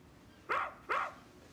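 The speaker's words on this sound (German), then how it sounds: "Das ist mein Hund." A dog barks twice in quick succession, fairly close and moderately loud, over a quiet background with no speech.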